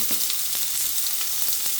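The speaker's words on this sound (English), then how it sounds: "We are going to tip the oil though, just to keep it frying up good." Steady, crackling sizzle of eggplant and tomatoes frying in hot oil, continuous and close, with faint clinks of stirring and no voices.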